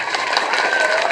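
Students at a tree-planting rally applaud together, a close burst of brisk, continuous clapping from a crowd with a faint tonal murmur beneath it.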